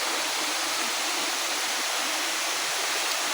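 Dunumala waterfall in Sri Lanka pours steadily in a dense, unbroken rush of white water, loud and close, with no voices over it.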